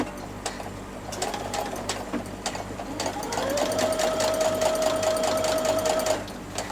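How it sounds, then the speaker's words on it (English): A sewing machine fitted with an edge stitching foot top stitches along a pocket edge, its fast rattling whir running steadily and growing slightly louder midway, close up and without speech. "Position your pocket along the edge of the guide and then start stitching."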